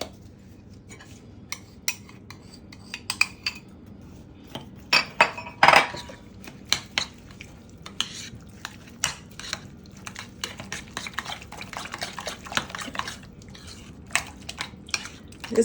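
A utensil stirs and scrapes through thick, chunky homemade barbecue sauce in a bowl, with irregular clinks and knocks against the sides, loud in bursts and quieter between them.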